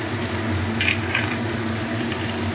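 Potatoes, drumstick pieces and eggplant frying in oil for shukto, a steady close sizzle with soft crackles, continuous and without talk.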